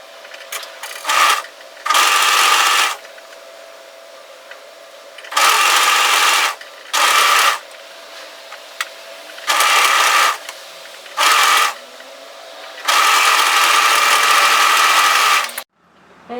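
Bursts of a sewing machine stitching a sweater hemline, several separate runs of steady close whirring, the longest lasting about three seconds, with quiet pauses between them.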